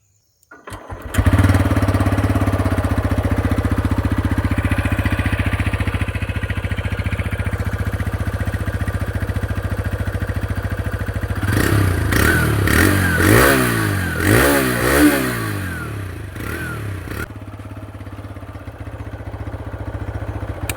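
A TVS Raider 125cc motorcycle starts up and idles with a steady exhaust note, then revs several times in rising and falling blips before settling back to idle and shutting off.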